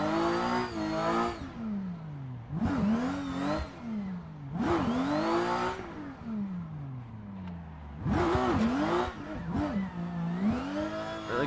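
Racing-simulator car engine revving hard in bursts, with aggressive downshifts producing sweeping rises and falls in pitch, loud and close with brief gaps between pulls.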